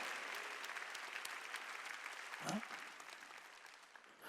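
A church congregation applauds during a Sunday worship service, with a broad, steady wash of clapping that stays fairly distant and faint and is briefly broken by a short voice.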